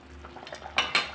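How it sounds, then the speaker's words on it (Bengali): A lid comes off a cooking pot of dhokar dalna: soft metallic handling noises, then two sharp, close clinks of metal on metal near the end, with no talk. "এরপর ঢাকনা খুলে দিলাম।"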